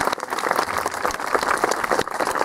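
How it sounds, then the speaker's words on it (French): An audience applauds at a tiger show at a medieval festival in Pierrefonds, a steady dense patter of clapping running throughout at moderate loudness with no clear talk over it. "On peut les applaudir."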